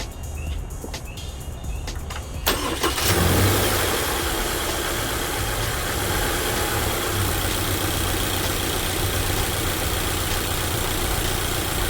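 After a few clicks, a car engine starts and settles into a steady, loud, close idle with a constant low hum and rattle that continues to the end.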